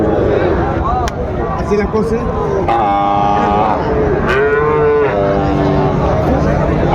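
A Sahiwal bull at a livestock market in Dinajpur gives two long, drawn-out moos, close and loud, over steady crowd chatter and nearby voices.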